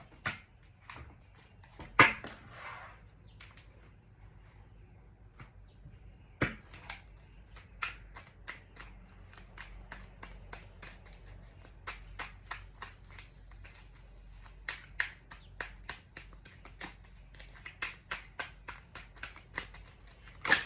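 Tarot cards shuffled by hand in a quiet room, a long run of crisp riffling and slapping bursts with short pauses, with a louder flurry early on and steady card snaps through to the end.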